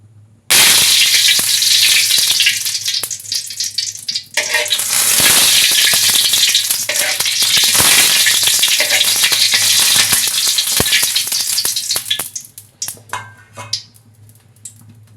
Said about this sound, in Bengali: এটা সুন্দর করে নরম তুলতুলি করে ভেজে নিতে হবে তেলটা বেশি হবে না কম হবে না সামান্য পরিমাণ তেল দিয়ে দিতে হবে